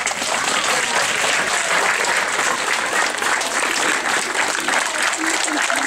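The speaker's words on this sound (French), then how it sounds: "Et on peut applaudir encore les 3e 1." Loud, sustained applause from an audience after a school theatre excerpt of Persepolis performed by a 3e class, dense clapping close up that continues without letup for several seconds.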